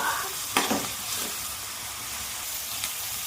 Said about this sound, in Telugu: దొండకాయలు నీళ్లు పోయేదాకా ఫ్రై చేసుకుని ఇప్పుడు ఆయిల్ వేసుకుందాం